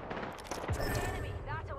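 Rapid bursts of automatic gunfire from a weapon in a battle royale shooter, loud and close, rattling in quick volleys mixed with game effects and occasional voice chatter.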